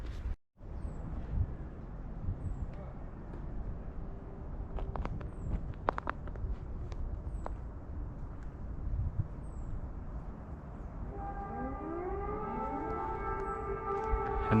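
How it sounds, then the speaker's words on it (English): Air raid sirens go off in snowy Lviv, Ukraine, faint and distant at first under crunching footsteps and outdoor noise, then a rising and falling wail grows clearer toward the end. "that's the missile sirens going off. So the air sirens are still going off."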